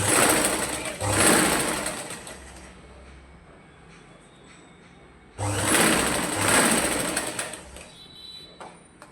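A sewing machine stitches readymade piping onto a blouse neckline, running in two loud, close bursts of steady whirring with a quieter pause between them.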